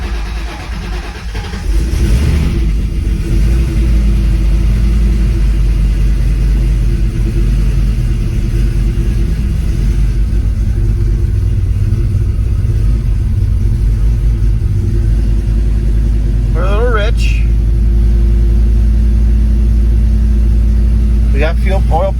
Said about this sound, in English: This is the first cold start in about at least 3 or 4 weeks.